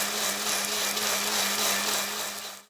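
A blender grinds soaked grains into idli batter, a loud steady whirring motor with a constant hum that cuts off abruptly at the end.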